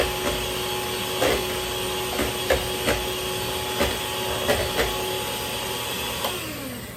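Electric hand beater whirring steadily through rich plum cake batter, a constant close motor drone with faint clicks as the beaters knock the bowl, winding down at the end, no speech.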